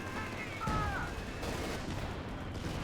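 Distant, rapid anti-aircraft flak and 20mm gunfire from a Company of Heroes 2 battle rattle as a steady, muffled wash of overlapping shots beneath a noisy game soundscape.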